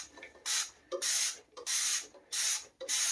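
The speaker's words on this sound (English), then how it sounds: "So we're just going to spray this down" Power wash cleaner sprayed onto Apple IIe Unidisk parts in a bathtub, five short hissing bursts from a trigger spray bottle in a steady rhythm, close and fairly quiet.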